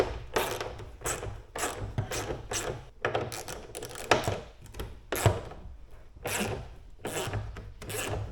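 A ratchet wrench works bolts loose on a motorcycle trailer, giving repeated bursts of rasping, clicking strokes in an uneven rhythm, close and fairly loud.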